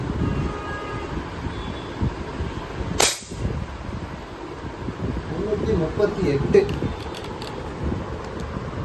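A Diana Outlaw air rifle fires a single sharp shot during a power test, a brief crack standing out near the middle of steady outdoor background noise.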